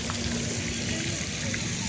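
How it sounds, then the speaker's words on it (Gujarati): Water from a garden fountain splashes and pours continuously in a steady wash of sound, with faint background activity. "જો ઉપરથી કેટલું મસ્ત પાણી પડે છે"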